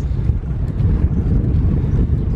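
Strong headwind buffets a cyclist on a flat road in France near Rhinau, a steady loud roar of rushing air and microphone wind noise with no other sounds.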